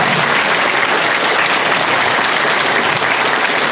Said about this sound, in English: Round of applause for Robert Fleischer.